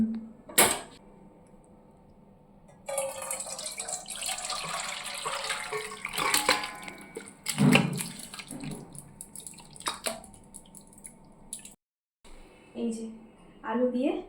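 Water poured off a pot of freshly boiled, softened food in a home kitchen during New Year's Day cooking: a steady rushing splash of several seconds, fairly close, with brief knocks before and after and voices nearby.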